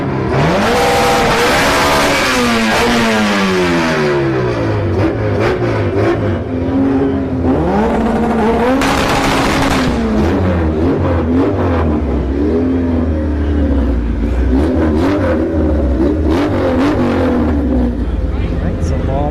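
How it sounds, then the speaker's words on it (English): A Honda Civic hatchback and a turbo Integra at a no-prep drag race, engines revving hard with rising and falling pitch sweeps, loud and continuous, under a race announcer's talk. "Honda Civic hatchback taking on an Integra in our next pair"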